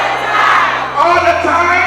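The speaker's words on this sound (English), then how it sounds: "Are you not happy to shout hallelujah unto the Lord?" A church congregation shouts together in praise, a dense crowd of voices rising into a loud collective cry that swells again partway through, near and continuous.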